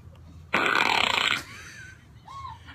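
A soundboard fart effect plays as one loud, raspy blast of about a second, then trails off into a few faint squeaky tones, with no talk over it.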